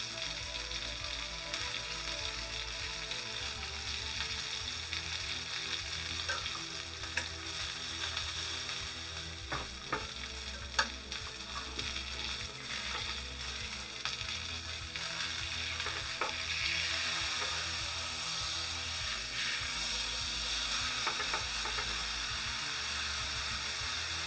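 Sous vide tri-tip getting its final sear, a steady, loud sizzle of hot fat that holds unbroken for the whole stretch, with a few faint clicks and knocks.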